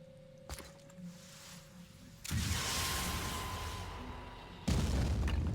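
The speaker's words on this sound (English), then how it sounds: "Once again, the rockets are flying far today" A rocket launcher fires in the tactical game Phoenix Point: a sharp crack, a quiet pause, then a heavy roaring blast that rumbles on and is capped by a second loud boom.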